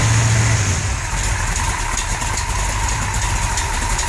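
A 1973 Plymouth Satellite with a 451 stroker big-block and tri-power carburetion idles with a big cam, a loud, lumpy, steady low rumble close by.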